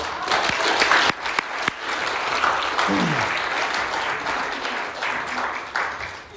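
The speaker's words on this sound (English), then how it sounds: "can we give everyone a round of applause who helped?" An audience at a Narcotics Anonymous speaker meeting gives a sustained round of applause, loud and continuous, with a few sharp individual claps and brief voices mixed in.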